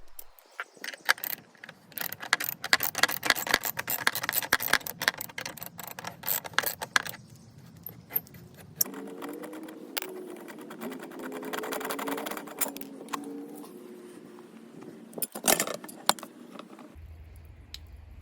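The clamp on a Pentair Quad DE pool filter is undone with close metallic clinks, rattles and clicks, followed by a sustained mechanical whirring hum broken by occasional sharp knocks.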